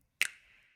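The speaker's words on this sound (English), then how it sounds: "Look at my snap sound" A single crisp finger-snap sample used in a K-pop style beat, one sharp close click followed by a short bright ringing tail, isolated against silence.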